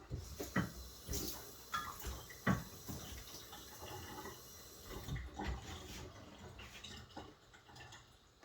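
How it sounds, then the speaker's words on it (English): Hot water poured out of a container and then topped up with a little cold water while making pizza dough, giving irregular splashes and trickles of running water close by, with quieter pauses between pours. "I'm gonna pour a little bit of it out and add just a little bit of cold water to it."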